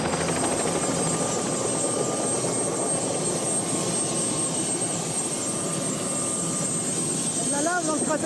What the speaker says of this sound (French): le pilote décide de se poser, sans couper son moteur, sur le plancher incertain du cratère